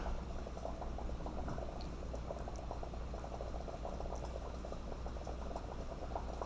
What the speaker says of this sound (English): I try to kind of pour in the center and let it run wherever.